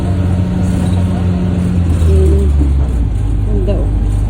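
A minibus engine labors and revs while the vehicle climbs a slope, a loud steady low drone that rises slightly midway, heard from inside with people talking over it.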